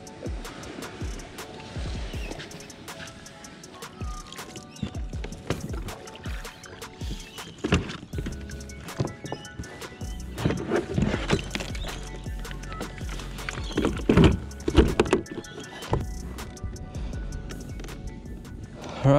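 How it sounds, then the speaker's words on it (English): Paddle strokes dip and splash around a kayak on open water in Port Stephens, irregular close watery swishes and drips continuing throughout with occasional louder surges. "I'm pretty much just gonna paddle around and see what we can find."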